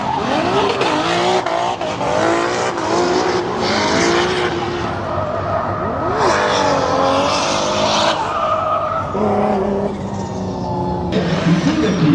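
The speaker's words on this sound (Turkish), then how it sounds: "ben dayanamayacağım şu drift kısmına bir gidelim bakalım" Cars drift at a Hot Wheels Legend Tour event, their tires squealing in long, wavering screeches over engine roar and revving, loud and sustained throughout with overlapping slides and no talk.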